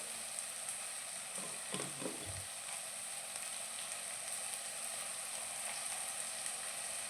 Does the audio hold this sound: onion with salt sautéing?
yes